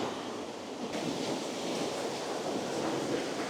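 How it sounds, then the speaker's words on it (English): A fast-flowing river in woodland gives a steady, broadband rushing roar, constant and fairly loud throughout with no voices. "When you're shooting river shots in woodland like this, which is a very fast flowing river"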